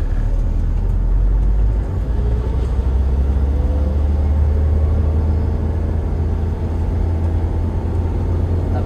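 A 2013 Toyota Hiace Commuter van engine accelerating on the road, a loud, low rumbling drone with steady road and cabin noise throughout.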